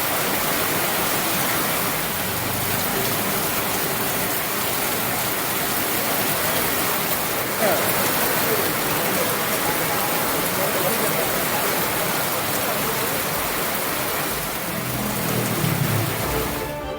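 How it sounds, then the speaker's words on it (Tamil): Sudden rain falling in the Virudhunagar area of Tamil Nadu: a dense, steady hiss of downpour running throughout, loud and even, with no clear voices. "விருதுநகர், ஸ்ரீவில்லிபுத்தூர், ராஜபாளையம் பகுதிகளில் திடீரென பெய்த மழை."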